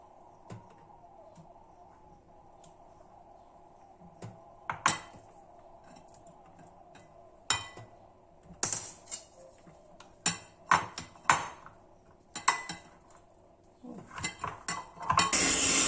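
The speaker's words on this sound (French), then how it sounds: "Au fur et à mesure, je fouette toujours." A whisk clinks against a bowl of lemon cream as butter is added, with sparse taps at first growing into a quick run of close metallic knocks near the end.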